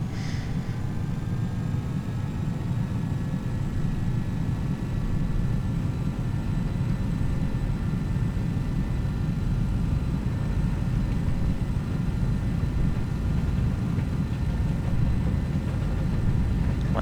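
Challenger 300 jet engines roar in X-Plane 11, a loud, steady low rumble with a faint high whine riding on top, holding an even level throughout without any break.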